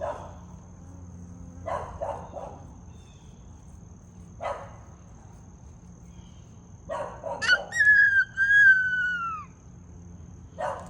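A few short dog barks spread across the clip, one followed by a rising whistle-like tone, over a faint steady hum.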